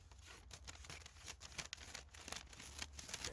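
Dull scissors cutting through paper in a garden bed, quiet irregular snips and crinkling rustles against a soft background hiss.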